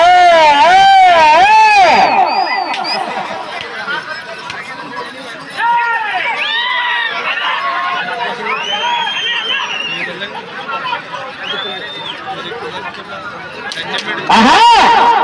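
Spectators at a foot race shout and cheer in bursts while an announcer talks loudly over a public address system, with the crowd's excited calls rising and falling in the background.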